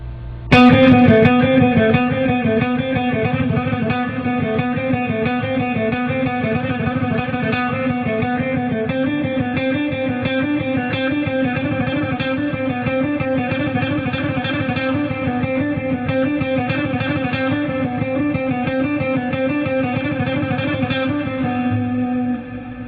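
Electric guitar with distortion and echo plays a speed exercise, continuous runs of picked notes at slow to moderate tempo then fast, carrying on for over twenty seconds without talk.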